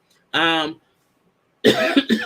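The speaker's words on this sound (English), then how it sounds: "So excuse the coughing" A single hoarse cough, then a short pause and a rougher pair of coughs close to the mic.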